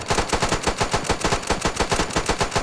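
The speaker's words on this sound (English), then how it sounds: "I kind of want to use my machine gun against the Belgian commander" A machine gun rattles in a First World War battle game, a fast steady burst of evenly spaced loud shots, close and continuous, with no talking.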